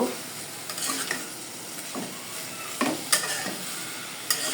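Turmeric being stirred into a simmering beef and bottle gourd curry: soft sizzling with a few scraping strokes of a spoon against the pot, close and fairly quiet.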